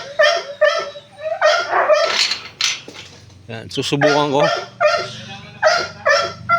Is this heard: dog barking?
yes